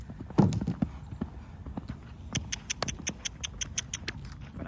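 A horse's hooves clip-clop in a quick, even rhythm during surcingle work, fairly close, with one louder thud near the start and steady beats after.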